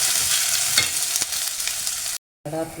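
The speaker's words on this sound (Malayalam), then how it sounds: "ഇത് നല്ലപോലെ ഒന്ന് വഴറ്റിയെടുക്കാം. നല്ലപോലെ വഴഞ്ഞെടുക്കണം." Ingredients for a tamarind curry sautéing in a pan, with a steady close hiss and sizzle and occasional stirring scrapes, followed by a brief silent gap and a short return of sizzling.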